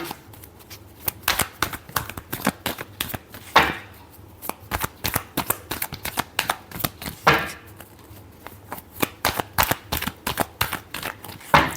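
Tarot cards being shuffled in a long run of quick riffling bursts, with sharper louder snaps around the fourth, seventh and twelfth seconds; close and alone, with no talk.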